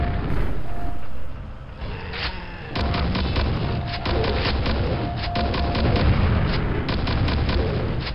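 Grenade explosions in the Quake Dwell mod, played on PC with vkQuake, sound as a rapid series of loud booming blasts and sharp bangs layered over continuous dense game noise, with no talking.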